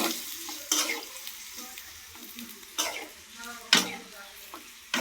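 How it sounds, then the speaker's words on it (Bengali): Onions stirred in a frying pan for a home-style vegetarian dish, with a steady sizzle broken by several sharp scraping strokes of the spoon at irregular intervals, close and fairly loud. "পেঁয়াজ দিয়ে আমরা একটু নাড়াচাড়া করব।"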